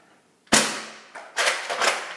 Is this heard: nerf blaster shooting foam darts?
yes